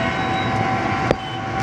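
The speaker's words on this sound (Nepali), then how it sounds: "माथिको चाहिँ मेट्रो कुद्ने हो," A Delhi Metro train runs along an elevated bridge near Model Town, a steady close rumble of wheels on track with a brief clank partway through.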